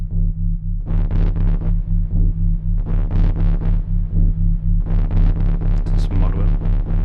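Omnisphere synth arpeggio played in repeating bursts over a steady low drone, with aftertouch pushing gritty distortion into the notes; loud and rhythmic, three clusters of rapid stepped notes.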